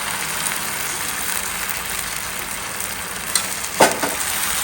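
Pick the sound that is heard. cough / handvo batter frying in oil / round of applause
handvo batter frying in oil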